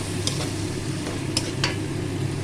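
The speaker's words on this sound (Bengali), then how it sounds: "আদা রসুনটা দিয়ে আবার একটু কষিয়ে নেবো।" Ginger-garlic paste sizzles steadily with prawns in a hot pan for malai chingri, a continuous close frying hiss broken by a few sharp scraping stirs of the spoon.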